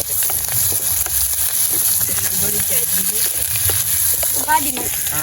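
Onion, curry leaves, dried chilli and mustard seeds sizzling in hot oil in a home kitchen, a continuous bright hiss running throughout while people talk over it.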